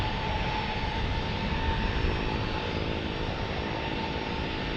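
A Cessna 208 Caravan turboprop readies to depart at a busy single-runway San Diego airport, its engine giving off a loud, steady, continuous roar with little change across the moment.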